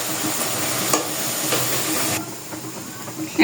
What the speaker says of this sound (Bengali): চপ ভেজে নেব।